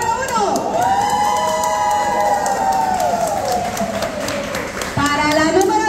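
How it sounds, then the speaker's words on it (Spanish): Lively audience at a dance event cheers, whoops and shouts for the first-place winner, a loud, sustained wall of crowd noise with scattered claps and high voices rising and falling throughout. "Aplausos para el número uno."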